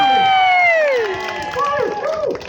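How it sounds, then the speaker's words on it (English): Audience at a live show in Inverness cheers loudly for about two and a half seconds, with a strong whooping voice rising and falling above the crowd noise. "Massive round of applause and cheer, and we start the show."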